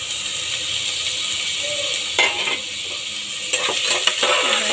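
Drained, washed potato pieces are stirred with a spatula in a hot pan over a soft sizzle, with a few scraping, clattering strokes in short bursts.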